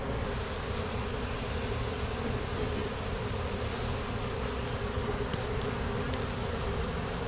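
Honeybees hum in a neglected swarm trap, a dense, steady buzz of a great many bees that carries on loud and close with no pauses and no voices.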